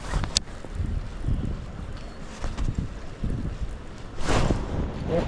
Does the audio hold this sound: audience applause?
no